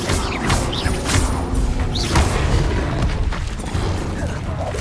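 Fiery Incendio spell bursts from the wizard's wand during Hogwarts Legacy combat, a dense roaring whoosh with repeated booming thumps and crackling impacts, loud and continuous throughout.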